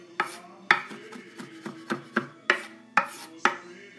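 A knife chops garlic thinly on a board, eight or nine crisp, separate strikes at an uneven pace, close and fairly quiet with nothing else heard.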